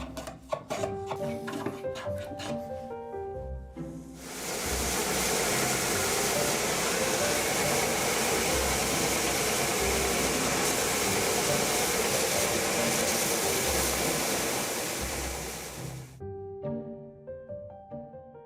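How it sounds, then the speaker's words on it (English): Edge sander rounding a wooden workpiece: a dense, loud, steady grinding roar that lasts about twelve seconds, preceded and followed by quieter background sounds without clear speech. "at which time we can just take it on the edge sander and fully round it."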